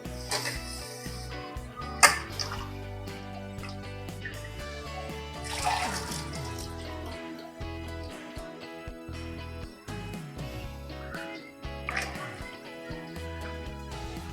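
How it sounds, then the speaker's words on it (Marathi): Mutton pieces being washed in water splash and slosh in repeated bursts, with clattering of a vessel and wet handling noises, fairly close and heard without speech. "आता आपण ना मटन वॉश करून घेऊयात"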